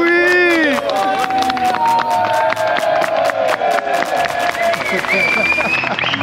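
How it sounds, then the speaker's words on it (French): Crowd at a Walibi Belgium park show applauding and cheering loudly and steadily throughout, with voices and whistles rising above the clapping. "Oh, c'est beau, on applaudit"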